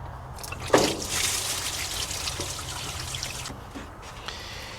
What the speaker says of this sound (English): we got that first line pulled off. That's water mixed with antifreeze, but it looked like mostly water